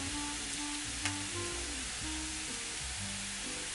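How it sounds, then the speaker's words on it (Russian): Tomato paste sizzles in a frying pan over onion, carrot and sweet pepper, a steady close hiss of frying with a faint stir or clink partway through, no voices. "Теперь добавляю томатную пасту. Прямо сюда в сковородку."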